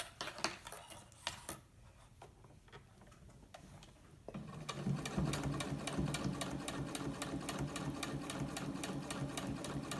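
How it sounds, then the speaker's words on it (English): A sewing machine stitches a fabric face mask, first with a few scattered ticks and clicks, then running in a steady close rapid clatter of needle strokes that continues to the end. "Lift it up and go back and sew over it again."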